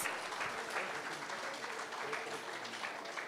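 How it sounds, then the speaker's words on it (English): Audience applause in a lecture hall at a national public lecture, honouring a professor: dense, steady clapping from many hands, sustained throughout at moderate distance, with no voices over it. "please let's give Professor Tomori another round of applause"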